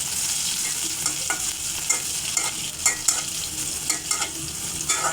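Chopped onion, bay leaf and five-spice seeds frying in a pan, stirred with a spatula: steady close sizzle with irregular scraping clicks and taps throughout, no voices.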